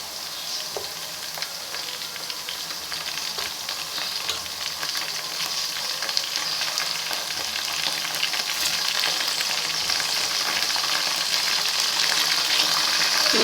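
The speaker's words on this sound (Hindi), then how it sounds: "अच्छी तरह इसको फ्राई कर लेंगे तेल में" Chicken pieces sizzle and crackle steadily in hot oil for a home-cooked chicken curry, a close, continuous frying hiss that grows slightly louder over time.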